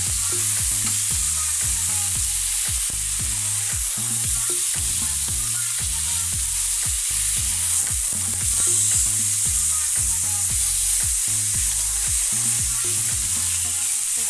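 A freshly caught tuna steak sizzles loudly and continuously in a hot pan after being flipped, a close, dense frying hiss that lasts throughout.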